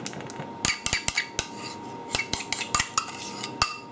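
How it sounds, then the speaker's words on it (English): A metal knife clinks and scrapes against a hot pizza tin while spreading cheesy mayonnaise over a low-protein pizza base, giving sharp, irregular taps and scrapes at close range. "just use a knife just to spread it to the edges"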